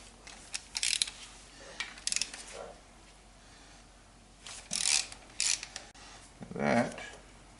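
A socket ratchet working the timing belt tensioner bolt on a Nissan RB25DET engine: several short bursts of rapid clicking ratchet strokes separated by pauses, close and fairly loud, with brief quiet handling noises between.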